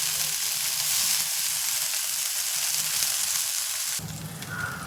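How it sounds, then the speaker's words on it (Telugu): Nalleru stems fry in a hot pan with a steady, dense sizzle. The sizzle runs unbroken and close, swelling a little louder near the end as the stems shift in the oil. "ఇప్పుడు నల్లేరు కాడలు వేసుకుందాం. వేసి బాగా వేగనిద్దాం."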